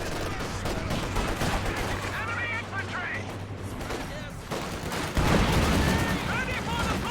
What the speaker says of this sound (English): It is the archetypal Nazi machine gun.